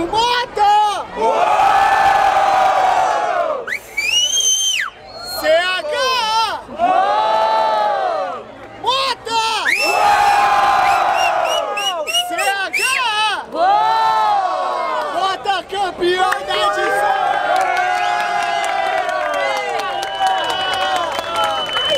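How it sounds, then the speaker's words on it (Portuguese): At the grand final of the 130th Batalha da Aldeia rap battle in Barueri, São Paulo, a large crowd roars, cheers and chants loudly. Whoops and yells surge and fall repeatedly close by. "Barulho para as rimas do Mota."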